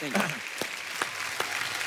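Studio audience applause on a comedy talk show, a steady wash of clapping with a few sharper claps standing out and a voice speaking briefly at the start.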